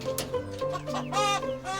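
Fighting roosters cluck and call in a steady run of bursts at close range, the fowl's voices layered over a low background hum with no talk.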